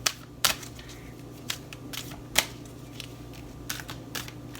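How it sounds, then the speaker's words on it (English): Tarot cards being shuffled by hand, sparse crisp riffles and taps up close against a quiet room hum, with no voice. "Let me just shuffle these again."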